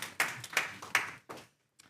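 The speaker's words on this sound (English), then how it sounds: "Big applause." A small audience at a conference talk claps briefly, a handful of close, sharp hand claps in a short irregular burst that stops after about a second and a half.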